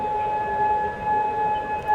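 An air-raid warning siren in Kuwait wails with one continuous, fairly loud tone that swells slightly in places and is heard on its own with no talking.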